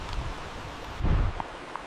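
Wind gusts through the rainy night, buffeting the microphone with low rumbling rushes and rustling, a strong blast midway, plus a few faint scattered taps.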